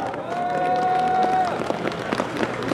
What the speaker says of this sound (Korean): 힘찬 격려의 박수 부탁드립니다